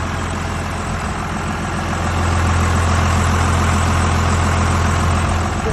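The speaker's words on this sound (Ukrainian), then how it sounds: "Двигун працює рівно без зауважень." A car engine idles smoothly and steadily nearby, a constant low rumble that grows slightly louder partway through.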